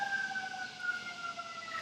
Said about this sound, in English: we're going to let this siren pass